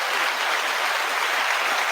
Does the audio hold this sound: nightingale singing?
no